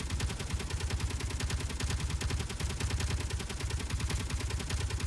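Turrets firing in the video game Underground Alone, a dense, continuous rapid burst of gunfire crackling steadily throughout, loud and unbroken with no speech over it.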